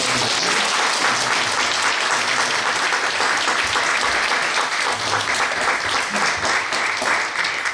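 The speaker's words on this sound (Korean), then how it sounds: "다시 한번 큰 박수로" Loud, sustained applause from a church congregation at an ordination thanksgiving service, a dense steady wash of many hands clapping together throughout, with no voices rising above it.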